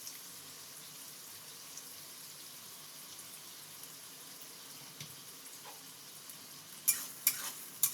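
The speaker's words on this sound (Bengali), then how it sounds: "এটাকে একটু ভালো মতন ভেজে নেব" Egg for egg fried rice fries in a pan with a soft, steady sizzle, joined near the end by a few sharp scrapes and clinks of a utensil against the pan.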